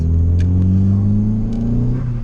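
Turbocharged car engine pulling under acceleration from inside the cabin, a steady rising drone with rumbling low tones and faint whooshing turbo spool, loud and close with no talk.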